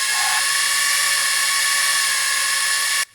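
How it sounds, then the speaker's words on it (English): A video game's main-menu sound effect of an electric motor spinning at full speed, a loud, shrill, continuous whine that holds steady for about three seconds before cutting off abruptly. "the absolutely mind-splitting sound of an electric motor going as fast as it"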